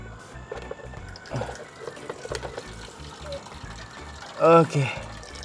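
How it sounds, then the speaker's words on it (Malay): An automatic chicken waterer spouts water into a container with a steady trickling splash, someone talking over it and a louder gush near the end. "Air keluar macam fountain dan masuk dalam bekas."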